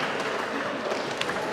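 A music-session audience claps together in a short burst of dense group clapping, steady and moderately loud without a break.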